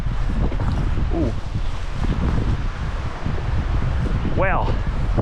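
Strong outdoor wind buffets the microphone in heavy low rumbling gusts during spring, with a person speaking briefly over the noise and a short squeak near the end.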